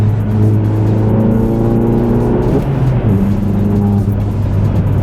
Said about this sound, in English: But the engine does sound gruntier. Like, it's almost as if it's all motor, but not really. It's really strange. Like, here's a fourth gear, pull.